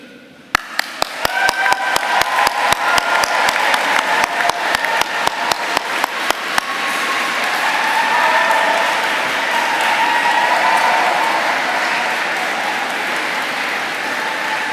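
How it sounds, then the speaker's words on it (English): A graduation ceremony audience in Canterbury Cathedral applauds loudly and steadily, starting with a few sharp individual claps that swell into a dense, sustained wash of clapping. "Will you please applaud them in return?"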